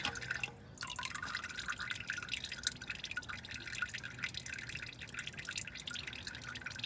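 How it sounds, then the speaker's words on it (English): Engine oil drains from a Toyota 2GR-FE V6 into a drain pan with a steady run of close, quick drips and small splashes, no talking. "Still got a few drips coming out."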